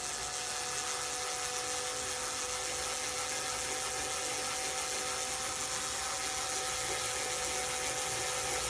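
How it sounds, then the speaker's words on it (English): A small drill with a 1.5 mm bit bores holes in a 1950s German archtop guitar during restoration, a steady close high-pitched whine running without pause and no voices. "it's hard to really drill too deep too quickly with this"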